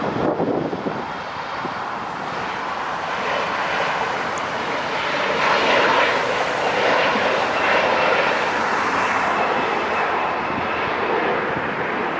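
An Embraer E175 jet airliner passes near LAX airport, a steady broadband engine roar that swells slightly midway and holds at moderate distance, with some wind buffeting on the microphone and no talk.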